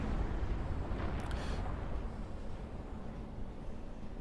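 Bombing explosions in the strategy game Supreme Commander 2, heard as a continuous low rumbling roar with a brief brighter burst partway through, no voices over it.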